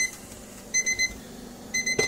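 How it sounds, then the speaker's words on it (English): A kitchen timer rings while fries cook, with two short bursts of rapid triple beeps, loud and close, in an otherwise quiet kitchen. "Here's my timer"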